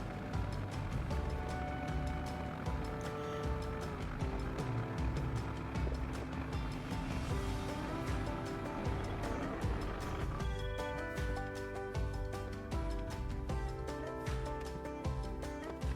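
A tractor engine idles and works while its bucket lifts building posts up to the second floor of an A-frame house, giving a continuous, fairly quiet mechanical drone that shifts in pitch partway through.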